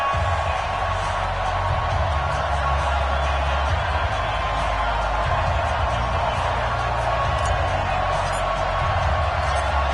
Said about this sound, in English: this crowd is pumped up as their Redskins get set to match up with the Chicago Bears